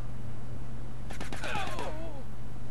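Gunfire in the video game Silent Storm, a quick cluster of sharp shots with ricochet-like whines trailing after, over a steady low hum.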